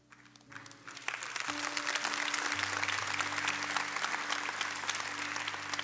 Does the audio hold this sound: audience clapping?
yes